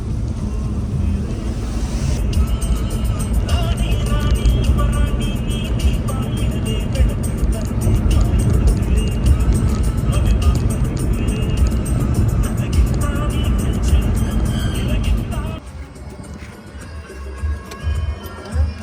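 A car travels along a highway in Karnataka, the steady road and engine rumble holding loud and close with wind buffeting, then dropping to a lower hum near the end.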